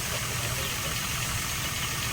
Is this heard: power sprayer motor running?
yes